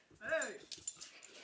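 A dog at a guitar shop gives a short whimpering yip close by, followed by faint clicks and people talking.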